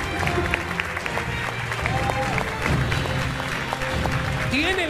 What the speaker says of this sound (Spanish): ¡Mirá cómo aplaude el correntino!